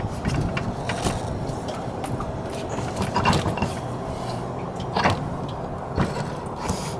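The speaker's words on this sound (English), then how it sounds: "you can hear the gears turning in the gearbox" Gears turning inside a scooter gearbox while the wheel is refitted during muffler work, a rough mechanical grinding whir with repeated clicks and ratcheting creaks, close and continuous with no talking.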